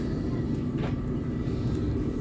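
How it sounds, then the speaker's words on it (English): Steady low rumble inside a second-class passenger train riding between Stadelhofen and Oerlikon in Zurich, with continuous broadband rolling noise and no talk. "So we're on the train here."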